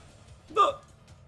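A single sharp hiccup from a man, short and close, standing out against a quiet background.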